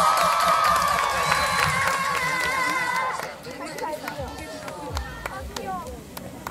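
A crowd at a youth practical-music contest applauds and cheers to welcome an elementary-school performer. Music fades out first, then loud mixed clapping and shouts follow, with voices in the crowd.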